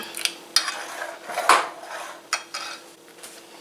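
A spoon scrapes and clinks against a pot while stirring oatmeal porridge on the stove, a series of close, irregular metallic taps and scrapes.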